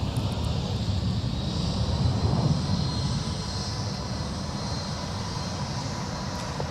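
A jet airliner engine roars steadily at MSP airport, heard as a continuous broad rumble with a faint high whine, fairly distant and unbroken throughout.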